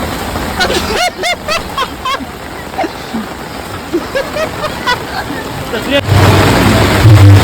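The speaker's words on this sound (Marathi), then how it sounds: "पाऊस फुल पडतोय" Heavy monsoon rain pours steadily on the way to the Ekvira temple, a dense wash of noise that swells louder near the end, with people talking and laughing over it throughout.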